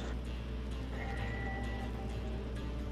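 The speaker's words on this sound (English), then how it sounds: "Get on your horse." A horse in Red Dead Redemption 2 heard over a dense, steady game soundscape, with faint hoof clops and a brief high whinny-like tone partway through, and no talk.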